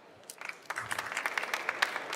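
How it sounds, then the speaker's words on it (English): Brief applause from a conference audience at an industry trade fair stage, starting as scattered claps and quickly building into a light, moderately distant round of clapping. "Biggest applause ever possible for this solution"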